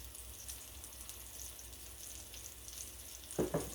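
Onions frying in butter in a pan give a steady, soft sizzle throughout, with a brief louder stir or clatter near the end.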